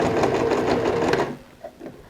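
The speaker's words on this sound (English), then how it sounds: "We're going to go and sew on the same stitch that we have sewn before." A sewing machine stitching a magazine-print handbag runs in a loud, steady mechanical whir at close range for just over a second, then stops, leaving a couple of faint clicks.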